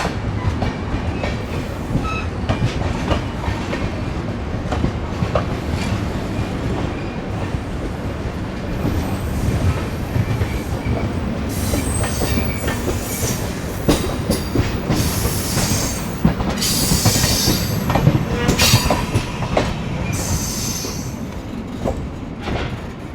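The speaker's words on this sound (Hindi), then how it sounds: "तो ये राप्ती सागर एक्सप्रेस चली गई बाराबंकी जंक्शन की दिशा में" The Rapti Sagar Express rolls past near Barabanki Junction: a loud, close, continuous rumble with rhythmic clickety-clack of wheels over rail joints and bursts of high screeching wheel squeal in the latter half.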